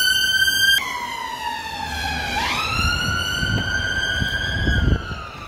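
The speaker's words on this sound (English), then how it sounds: "If it's not the ambulance, it's the police or fire brigade." A wailing emergency vehicle siren passes close on the road, loud sweeping tones that bend downward and rise again as it goes by.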